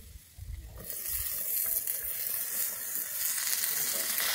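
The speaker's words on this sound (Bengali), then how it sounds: "আমি ঝিঙেগুলো দিয়ে এবার ঝিঙেগুলোকে একটু আমি ভেজে নিচ্ছি।" Ridge gourd hits hot oil in a wok and a loud, steady sizzle rises and holds, with faint low clatter in the moments before it starts.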